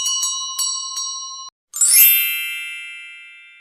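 A bright bell rings three or four times in quick, even strikes, then after a short pause a louder shimmering chime rings out and slowly fades.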